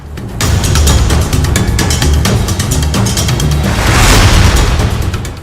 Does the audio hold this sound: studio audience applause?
no